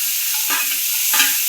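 Cashews are fried and stirred in a hot pan for a thick paneer curry. A continuous sizzle is broken by two louder scraping bursts of stirring about half a second apart, with no one speaking.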